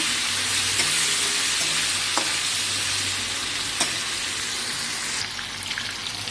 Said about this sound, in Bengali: তো এখানে আমি চিংড়ি মাছটা দিয়ে দিচ্ছি। অনেক তেলটা গরম হয়ে গেছে।